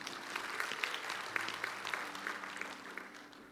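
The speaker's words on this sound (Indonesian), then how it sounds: "Tepuk tangan buat Tuhan." A church congregation claps together during a Sunday service, a steady round of fairly faint, dense applause lasting a few seconds and fading slightly at the end, with no speech on top.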